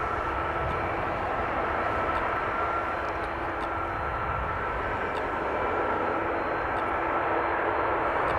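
A KLM airliner rolls down the runway at Amsterdam Schiphol, its engines giving a loud, steady roar that holds all the way through.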